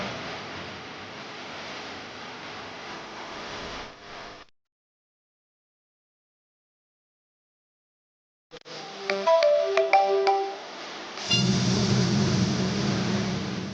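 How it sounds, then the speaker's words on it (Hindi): A phone ringtone plays as a short electronic melody of bright repeated tones after a stretch of silence, then gives way to a harsher, noisier sound. "कौन फोन कर रहा है?"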